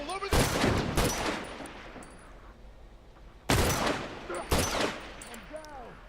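Rifle gunfire in The Last of Us Online, two loud bursts of shots with sharp attacks and ringing decay, separated by a quieter stretch, with faint game ambience between.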